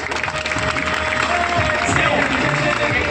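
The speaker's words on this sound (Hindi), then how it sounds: "एक जोरदार तालियां" An audience applauds at a business-building seminar, a loud, continuous wash of clapping filling the room with some crowd murmur and a steady tone underneath.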